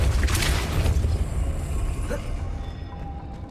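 The Depulso force spell is cast in Hogwarts Legacy. A loud, deep booming burst rumbles heavily for the first second, then gradually fades into a softer, lingering rumble.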